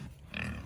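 A big pig lets out a low, rough grunt, faint and somewhat distant, that swells briefly and trails off.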